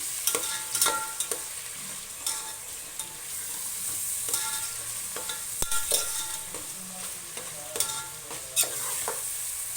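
Onions frying golden in a pan for a coconut-milk and cashew chicken biryani, a constant close sizzle broken by repeated scraping stir strokes and clicks, with no voices.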